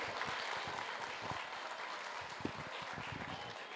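An audience fills a graduation ceremony hall with steady applause, dense crowd clapping that holds at an even level throughout, with no talk over it.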